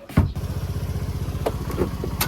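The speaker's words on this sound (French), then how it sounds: "C'est le scooter que j'ai loué pour les 2 jours." A rented scooter on Nusa Lembongan, Bali idles close by with a steady putter, after a sharp thump at the start and a few faint clicks.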